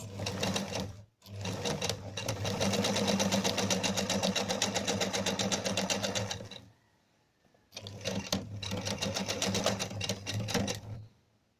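A sewing machine stitches a short 2-inch seam while a zipper goes in, two loud bursts of rapid, even needle chatter separated by a brief pause, with no talking.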